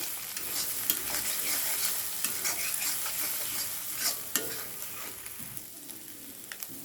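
Egg frying with vegetables in a pan for noodles makes a steady, close sizzle, with scraping and stirring sounds scattered throughout.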